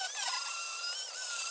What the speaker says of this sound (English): Now I'm just gonna grind it with a flap disc.